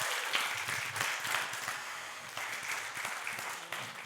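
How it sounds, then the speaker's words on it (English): Audience applause at a national convention in New Orleans, a steady, dense wash of clapping that fills the whole stretch at moderate distance, with no talk over it. "I want you to give them the applause for what just happened here today."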